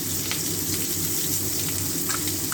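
Capsicum pieces sizzle and fry in a pan over a medium flame for honey chilli chicken, a steady dense crackle with faint scraping and small clinks from stirring, close and continuous throughout.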